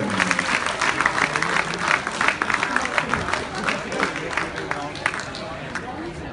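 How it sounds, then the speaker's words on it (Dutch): Applause from the audience at a youth darts event fills the room with dense, steady clapping and crowd noise, while an announcer speaks over it. "Dames en heren, geef ze nog een applaus."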